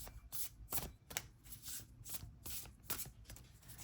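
Tarot cards are shuffled close and quiet in a rapid riffling rhythm of repeated bursts lasting a few seconds, with no voices.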